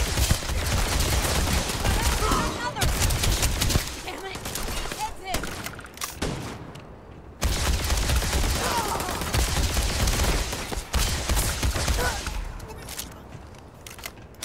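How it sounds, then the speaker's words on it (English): Sustained gunfire and rapid fusillades in the sci-fi video game Starfield, loud and dense bursts with brief gaps, continuing steadily throughout with scattered shots trailing off. "Hold on, trying to shoot me?"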